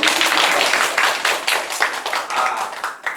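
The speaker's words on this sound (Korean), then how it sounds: "박수 한번 칠게요." A small audience at a presentation event claps briskly, a quick burst of overlapping handclaps close by that thins out toward the end.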